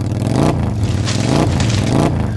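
Motorbike engine revving in steady surges, loud and close throughout, with a rough mechanical clatter as the bike pulls away.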